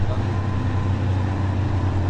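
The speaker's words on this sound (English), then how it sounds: "Oh yeah, listen to that truck." Logging truck engine in the off-road driving game Spintires, a steady low rumbling drone that holds throughout the short stretch without any talk.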